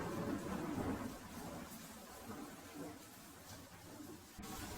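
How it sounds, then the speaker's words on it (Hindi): Heavy rain hisses steadily, with a low rumble of thunder swelling at the start before the downpour continues alone. "उसी पल गरजते बादलों के साथ घनघोर बारिश पूरे वेग से बरस पड़ी।"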